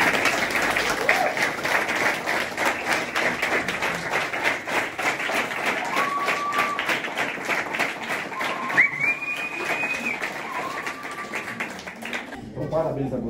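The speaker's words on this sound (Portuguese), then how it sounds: "Dá uma salva de palmas para o nosso gente." Audience applause at a school event, a steady wash of clapping filling the whole stretch with a few whistles rising over it, fairly loud and continuous before fading near the end.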